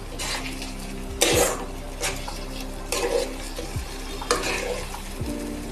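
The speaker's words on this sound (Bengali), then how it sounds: "তার সাথে সামান্য একটু জল মিশিয়ে মশলাটা" Spice masala loosened with a little water and stirred in a pan for a simple Bengali chicken curry, a soft bubbling sizzle punctuated by several loud scraping and clanking strokes of a metal spoon, no one speaking.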